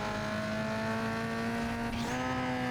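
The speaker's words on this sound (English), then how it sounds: "he has the really annoying mosquito buzz exhaust" Race car engine in Need For Speed Underground 2 with a high, thin mosquito-like buzzing exhaust, holding a steady drone at close range before a quick shift dips and lifts the pitch.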